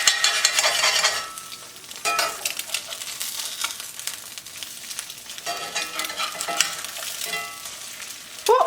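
Eggs frying in a pan after being flipped, a steady crackling sizzle with a few scraping stirs of a utensil, close and fairly loud throughout.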